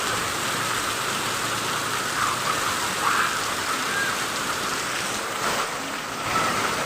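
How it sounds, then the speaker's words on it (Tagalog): Loud, steady rushing floodwater roars without a break during heavy rain, a dense continuous wash like a fast flood current pouring past nearby. "Grabing tubig. Sobrang baha."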